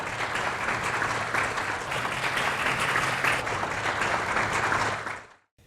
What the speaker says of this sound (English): So let's give them a big round of applause for organizing it.